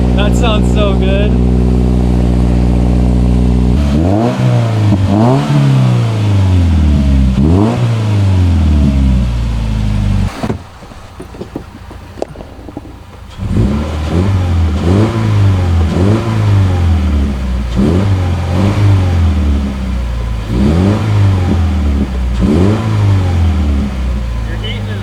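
Subaru Crosstrek with a Nameless aftermarket exhaust, warming up after a cold start: loud, close engine revving in repeated climbing sweeps, a short lull midway, then more revs with gurgling and a few pops on the overrun.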